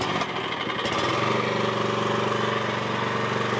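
A Frontier hydraulic sawmill's engine runs steadily at low speed, a loud, continuous mechanical drone with no pauses and no talking.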